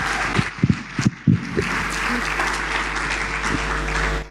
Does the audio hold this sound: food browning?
no